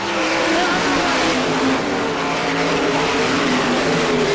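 Race cars roar around an oval track at a short-track event, a dense steady engine drone at full throttle. Several cars run close together, loud and continuous, with a commentator's voice faintly underneath.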